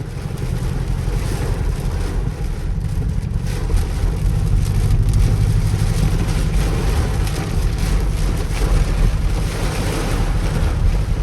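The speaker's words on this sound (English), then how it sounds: "This rain is pouring down hard, bro." Heavy rain pours down during a night thunderstorm drive in a Dodge Durango, a dense, steady roar of water and road noise filling the cabin without a break.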